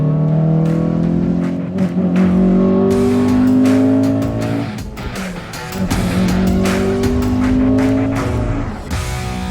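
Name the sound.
2002 Honda Accord Euro R car driving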